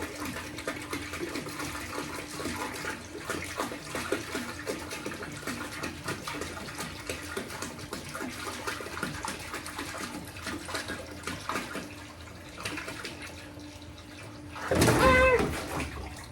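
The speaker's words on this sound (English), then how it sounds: "Oh, there's water everywhere. It splashed all the way over here." Water sloshing and splashing while a frog tank is filled, a steady busy trickling and gurgling texture nearby, with a louder splashing surge toward the end.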